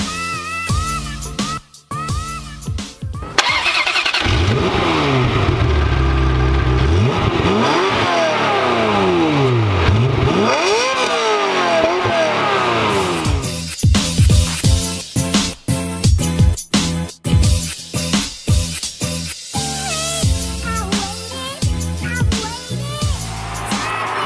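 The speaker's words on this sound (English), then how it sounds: "why don't we start the car up" A Ferrari F355 Spider V8 engine starts, idles briefly, then revs hard in repeated rising and falling bursts, loud and close, followed by choppy throttle blips.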